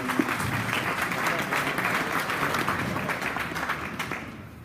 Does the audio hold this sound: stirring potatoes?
no